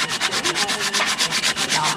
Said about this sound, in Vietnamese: Cái đó là mình chà nhám hả?